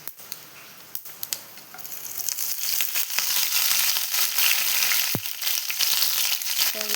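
Freshly washed curry leaves and dried red chillies crackle in hot oil while puli inji is cooked for an Onam sadya. Sharp scattered pops come first, then a fuller, steady sizzle builds close to the pan.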